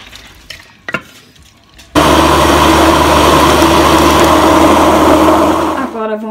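An electric blender whirs through pumpkin soup with its leftover cooking liquid, starting abruptly after a few handling knocks and running loud and steady for about four seconds before winding down.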